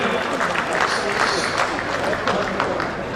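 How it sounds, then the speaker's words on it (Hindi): An audience at a ceremony honouring brave women on Martyrs' Day claps together, a continuous, fairly loud roomful of hands with no pauses across the few seconds. "आइए हम सब मिलकर तालियां बजाएं"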